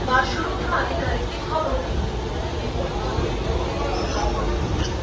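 A nearly empty passenger train on the Bardhaman–Howrah chord line rolls along with a steady low rumble and rattle, while nearby voices talk over it throughout.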